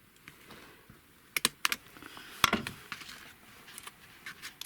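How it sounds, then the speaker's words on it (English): Scissors cut a small V shape into paper for a lapbook, a few close sharp snips and crisp clicks over a quiet room hum. "I'm just going to cut a slight V shape."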